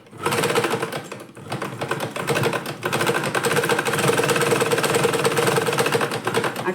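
A sewing machine stitching a salwar top, a steady rapid mechanical chatter running continuously at close range, with a brief slowdown early on before resuming its even rhythm.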